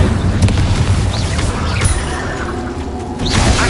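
A fiery Incendio spell blast in the video game Hogwarts Legacy: a loud, dense rumbling whoosh with crackling bursts, sustained throughout and close, layered over game effects.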